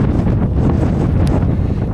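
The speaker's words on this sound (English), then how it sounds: "Yeah, it's windy today." Strong wind buffets the microphone on a high, exposed stretch of the Anglesey coast, a loud continuous roar with gusty low-frequency rumble and no voices.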